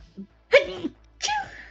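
A single close sneeze in two bursts, a sharp intake and release, in a quiet room.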